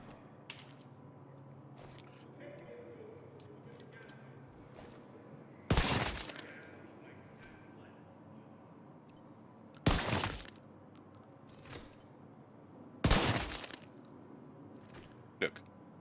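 Three heavy Desert Eagle pistol shots in The Division 2 game, loud sharp blasts spaced a few seconds apart over a low ambient game bed, with a smaller click near the end.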